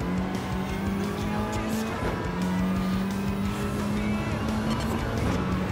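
A racing car in Gran Turismo 7 drives with a loud, continuous engine drone, broken by a short dip partway through, while squealing tires add bright streaks throughout; a faint voice may sit underneath.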